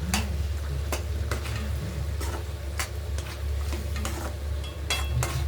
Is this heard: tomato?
yes